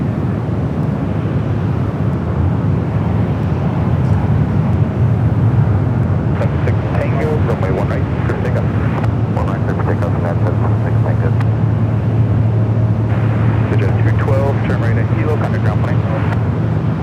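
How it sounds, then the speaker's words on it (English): United Boeing 737-900ER bound for Houston at San Francisco International Airport, a loud sustained jet engine roar with a steady low hum, while a voice talks over it. "United flight heading to Houston, flight 776, 737 at 900 ER."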